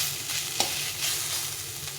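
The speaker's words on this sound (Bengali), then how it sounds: "মশলার সঙ্গে মূলোটাকে কষিয়ে নিতে হবে" Radish stir-frying with spices in hot oil, a continuous close sizzle with light scraping of a spatula and one brief clink partway through.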